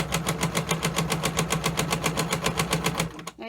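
A sewing machine stitches quilt blocks with a 1/4 inch seam, its needle pounding in a fast, steady rhythm close up, alone, before stopping abruptly near the end.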